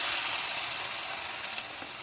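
Hot water poured into a pan of cooking bitter gourd masala sets off a broad, steady steaming hiss and sizzle at close range, fading slightly over a couple of seconds with no voices.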